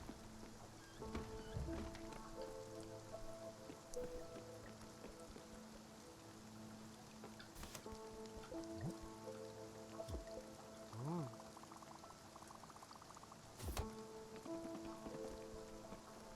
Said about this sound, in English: Maybe it's because it's nighttime and it's raining.